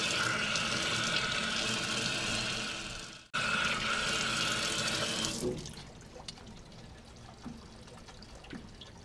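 Rainbow trout rinsed under a running faucet: a loud steady gush of tap water, briefly cut off once, then tapering into softer trickles and drips, close with no talk.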